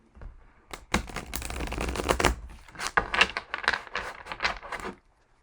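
A deck of tarot cards being shuffled by hand, a close series of crisp riffling bursts and snaps lasting about four seconds, with no talking.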